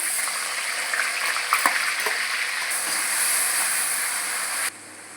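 Green chilies and onion are dropped into hot oil for an egg curry, producing a continuous bright sizzle with a few soft clatters of ingredients going in, then an abrupt drop to quiet.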